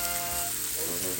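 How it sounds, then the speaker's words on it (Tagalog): Korean-style pork belly (samgyeopsal) sizzles on a hot grill in a steady, dense, close hiss that fills the whole moment, with no voices. "We have to grill the pork belly mix."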